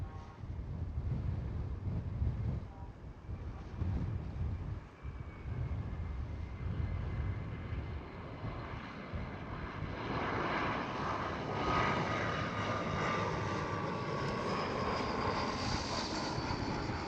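A KLM Cityhopper Embraer E175 regional jet at Amsterdam Schiphol gives a steady, loud engine roar that holds for the whole stretch, with a rising whine and some wind rumble as it passes near.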